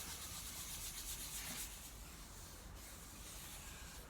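True oil finish is rubbed by hand onto a wooden guitar neck, producing a faint, continuous soft rubbing and swishing that stays quiet and even throughout.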